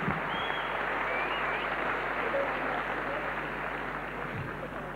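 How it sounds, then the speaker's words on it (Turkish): Sustained audience applause filling a hall at the 1997 Kral music awards ceremony in Turkey, steady and even for several seconds without speech. "Alkışlar nasıl Sibelcan?"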